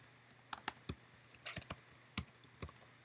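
Fingers typing code on a computer keyboard, a rapid irregular burst of crisp close clicks and key taps, alone and fairly quiet.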